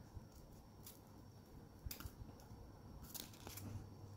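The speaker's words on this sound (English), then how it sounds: "carefully cut it with scissors" Scissors snip through paper along a pencil-drawn curve, giving a few quiet, close cuts spaced a second or so apart over a soft background hiss.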